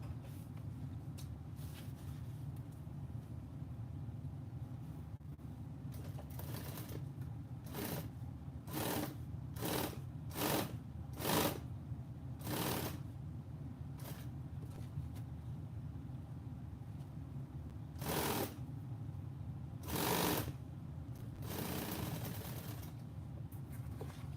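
A sewing machine stitches fabric panels with zipper pockets, running in repeated bursts of rapid needle clatter separated by short pauses, over a steady low hum.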